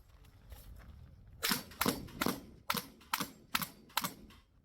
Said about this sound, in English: you were already shooting at those close clays